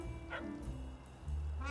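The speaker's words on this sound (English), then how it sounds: "there's a doggo there. Are you gonna be aggressive to me?" A dog barks at a cat in the video game Little Kitty Big City: a couple of short, soft yips over a steady background of game music, faint and a little distant.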